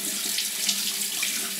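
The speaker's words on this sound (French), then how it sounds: "je me rince les mains" A faucet runs in a steady, continuous stream as hands are rinsed at a sink during a collagen skincare routine, close and even with no speech.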